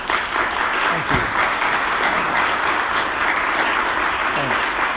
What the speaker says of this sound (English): let's give Chris a big round of applause